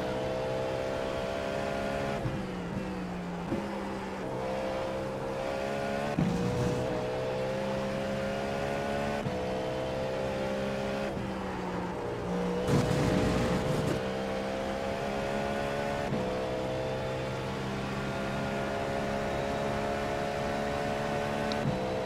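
Race car engines from an IMSA race at Le Mans in iRacing drone loudly and continuously, with cars surging past in swelling whooshes around the middle and later on.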